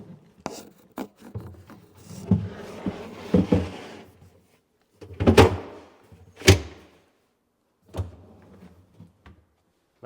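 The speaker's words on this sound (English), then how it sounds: "So we can stand cabinet back up, see how we did." A wooden cabinet with its drawer slides freshly installed is tipped back upright, giving a series of knocks, scraping rubs and a few sharp thuds close by, with quiet pauses between them.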